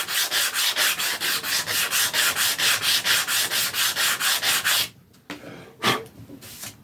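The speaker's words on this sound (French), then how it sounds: "Cette fois-ci, on va reponcer un peu plus." Rapid, rhythmic back-and-forth rasping of sandpaper on a metal piece, about four strokes per second, loud and close for nearly five seconds, followed by a few quieter handling knocks and scrapes.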